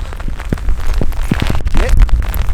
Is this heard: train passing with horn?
no